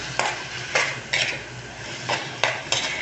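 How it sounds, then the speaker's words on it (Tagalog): Shrimp being stirred in a pan as it cooks with cabbage: a spatula scrapes the metal in repeated strokes over a steady close sizzle. "Mekos-mekosin lang natin ang hipon."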